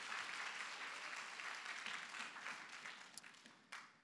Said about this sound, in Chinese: 多少人成为上帝的百姓，感觉到非常感恩的，拍手将荣耀归给耶稣。